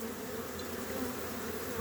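Honey bees buzzing around a well-populated beehive nucleus box, a dense continuous droning hum close by and fairly loud, with no talking.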